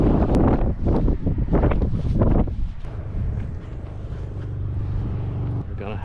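Strong wind on California's Central Coast buffets the microphone in heavy, rumbling gusts, loudest at first and then settling into a steadier low roar.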